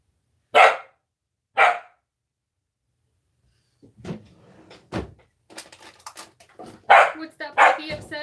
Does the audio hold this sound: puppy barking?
yes